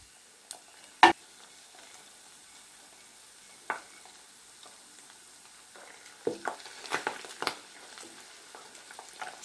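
Lard (pork fat) frying in a pan on a gas stove, mostly a quiet low sizzle broken by sharp scattered pops and crackles, a few isolated early and then a denser cluster near the end.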